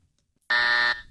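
Game-show buzzer pressed once, a loud harsh electronic tone lasting about half a second before cutting off, with no voices over it.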